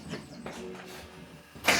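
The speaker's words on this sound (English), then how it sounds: "Should we start it? Let's see if it starts." A Datsun 620 pickup turned over in an attempt to start it, with a few muffled cranking pulses followed by a sudden loud, close burst of noise at the end; no talking.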